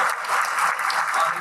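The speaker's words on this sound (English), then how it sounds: "please give her a round of applause for her leadership" A crowd at an annual meeting gives a round of applause for a town supervisor: a full, even wash of many people clapping together, sustained without a break.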